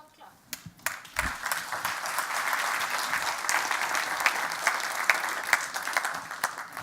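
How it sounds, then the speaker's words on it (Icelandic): Audience applause after a security talk at an IT conference in Iceland, starting with a few scattered claps and then swelling into steady, dense clapping from a mid-sized crowd that holds for several seconds. "Ég held að gefa þig gott klapp."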